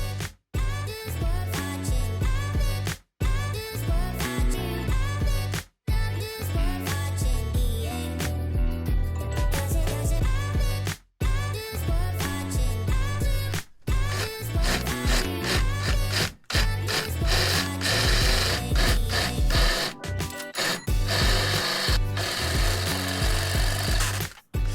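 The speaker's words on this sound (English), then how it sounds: "I'm gonna start drilling." A cordless drill bores through metal in long loud grinding runs while fitting a Tacoma body lift, the motor droning with harsh chatter and brief stops between passes, close to the microphone and without talk.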